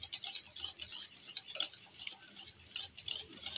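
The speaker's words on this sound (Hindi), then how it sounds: "और फिर आप अच्छे से दोबारा इसको मिक्स कीजिएगा इस तरीके से" A spoon mixing egg batter in a bowl: quiet, rapid clicking and tapping of the spoon against the bowl in an uneven rhythm, close and soft.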